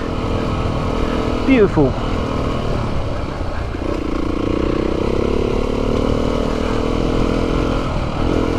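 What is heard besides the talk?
Beta 390 RR enduro motorcycle riding through forest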